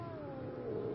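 A house cat gives a single drawn-out meow on seeing its owner, a sliding tone that falls in pitch, heard close and fairly soft.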